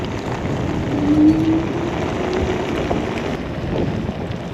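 A Vsett 10 electric scooter accelerates hard on a wet road. A faint rising motor whine sits under steady rushing wind and tyre hiss that carries on through the whole stretch.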